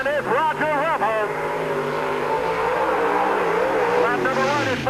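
Car number 10 runs a qualifying lap around Peoria Speedway during the 1997 Busch 100, its engine revving and rising and falling in pitch as it passes, loud over an announcer's voice.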